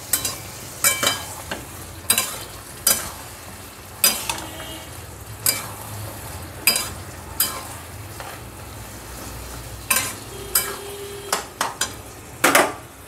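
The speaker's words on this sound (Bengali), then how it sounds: "দিয়ে ভালো করে সবজিটাও কষানো হলো, মশলাটাও ভালো করে ভাজা হলো" Vegetables and spices stir-frying in a pan, a soft steady sizzle broken by repeated sharp scrapes and knocks of a spoon against the pan at irregular intervals, close by.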